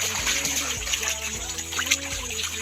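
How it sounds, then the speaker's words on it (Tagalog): Water pouring and splashing steadily as a small mini fish pond is drained and cleaned, a continuous close trickle and gush with a low background hum throughout. "pinapagos natin ng tubig."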